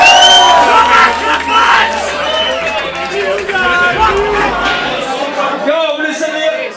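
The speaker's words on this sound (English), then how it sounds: "Nice round of applause, people!" Crowd cheering and clapping at a rap battle, a loud, dense wall of shouts and whoops running throughout and tapering off near the end, with voices calling out over the din.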